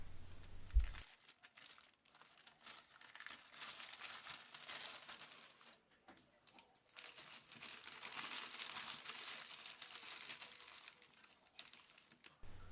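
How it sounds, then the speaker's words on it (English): Sand is poured into a plastic bag for stratifying strawberry seeds, giving close, soft crinkling and rustling in uneven bursts with short quiet gaps, with no talk. "place a little sand in a plastic bag"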